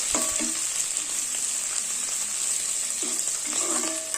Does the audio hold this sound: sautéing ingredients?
yes